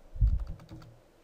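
A few quick key presses on a computer keyboard, soft and close, a short cluster of clicks in an otherwise quiet room.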